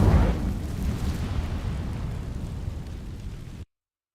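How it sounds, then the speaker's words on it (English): Incendio fire spell igniting dry vines in Hogwarts Legacy, a loud burst that opens with a heavy whoosh and then settles into a sustained roaring crackle of flames, which cuts off abruptly. "These dry vines are one spark away from becoming kindling. Incendio!"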